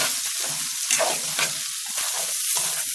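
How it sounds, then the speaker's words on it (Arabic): Rice and darkly browned vermicelli frying together in a pot while being stirred, with steady close sizzling broken by scraping, shuffling stirs. "انا حطيت الرز بقلبه"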